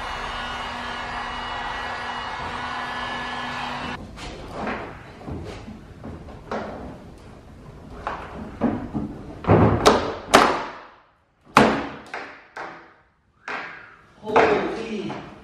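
A car's bumper lip is forced off a Nissan 370Z after being heated, giving a series of irregular thumps and sharp knocks, some loud and close, with pauses between them and a steady hum at the start.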